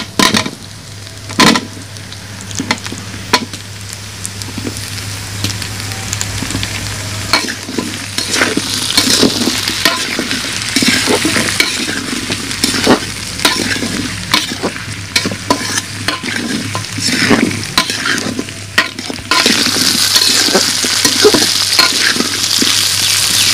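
Potatoes and onions fry in a pan while a spatula stirs them, making repeated scraping and clinking strokes over a continuous sizzle that swells louder near the end.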